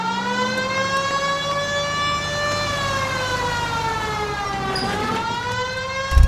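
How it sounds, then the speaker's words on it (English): A police car siren wails in the video game L.A. Noire, a steady rising and falling electronic tone that runs close and loud through the whole stretch, with a brief thump at the end. "Turn on the siren and pull her over."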